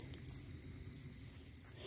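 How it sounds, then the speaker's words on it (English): Tiny frogs, the smallest in North America, calling outdoors at night as a steady high-pitched trill with brief brighter chirps, fairly faint over a low background rumble and with no voices present. "these particular frogs would be almost impossible to see and impossible to find if they weren't calling"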